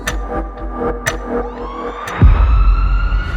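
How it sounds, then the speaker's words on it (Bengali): An ambulance siren wails with steady tones, then a loud low rumble swells in partway through and continues beneath it. "The ambulance! The ambulance!"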